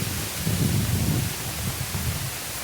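Water from the Varjhot waterfall sprays through the air in a dense, steady roar of broadband rushing noise. The spray sounds close and continuous, with no voices.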